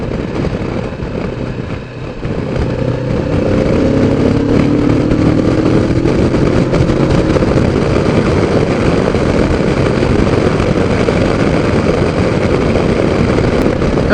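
Engine note from a 2015 Kawasaki Vulcan S with ABS, a loud steady drone that swells after a brief dip near the start and holds strong throughout, with wind buffeting mixed in and no talking.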